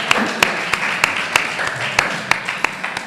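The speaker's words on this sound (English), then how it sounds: "give yourselves a round of applause" Members at a Rotary community projects meeting applaud themselves, a moderate crowd's clapping topped by several sharp, louder claps from someone nearby at a steady rhythm.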